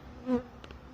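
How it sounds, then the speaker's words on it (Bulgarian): Honeybees waking in a hive give a faint, brief buzzing hum that rises and fades in under a second, with no voices present. "Виждате как пчеличките почнаха да се събуждат."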